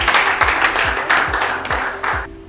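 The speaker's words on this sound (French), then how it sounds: "Merci de l'applaudir." Audience applause breaks out at a scientific colloquium presentation: dense, steady clapping from a room full of people for a couple of seconds, with low rhythmic thumps underneath.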